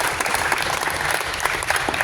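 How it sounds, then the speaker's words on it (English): Audience applause saluting students, a full, sustained burst of many people clapping together, dense and even from start to finish, with no voices on top. "you join in and clap to salute everybody"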